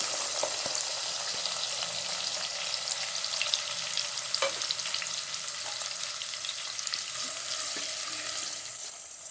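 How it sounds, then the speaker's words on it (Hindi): Chopped onions sauté in half a cup of hot cooking oil for a keema dish, giving a steady, close bright sizzle with occasional faint stirring clinks throughout, no voices. "अब इसमें हम शामिल करेंगे प्याज, जो कि हमने काट के रखी हुई थी।"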